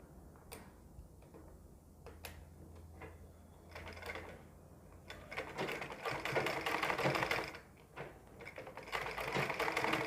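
A sewing machine runs stitches into a ladies suit sleeve, starting with a few short ticking bursts and then settling into a longer, steady whirring run, close and fairly quiet.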